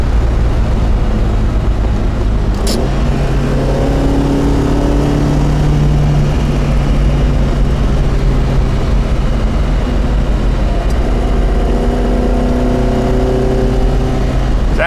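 Engine of a 1967 Alfa Romeo Giulia Sprint GT climbing through the revs while driving, rising and falling tones over steady road and cabin rumble, loud and close with no talking.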